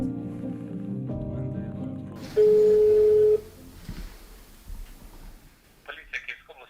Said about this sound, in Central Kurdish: تەلەفۆن بۆ پۆلیس دەکەین